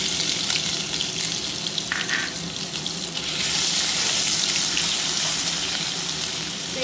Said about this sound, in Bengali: তো আমি এখন আদা রসুনের পেস্টটা দিয়ে দিচ্ছি।